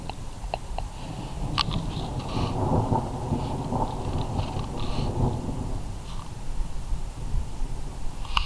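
Steady rain falls during a thunderstorm at night while waiting for the northern lights, with a low rumbling wash of rain noise and scattered close drips and taps, no one speaking.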